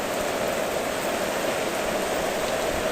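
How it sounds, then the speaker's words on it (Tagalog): Heavy rain pouring steadily on Makiling Road, a dense, even hiss of falling water filling the whole moment without voices. "Lalong lumakas ang ulan, ha."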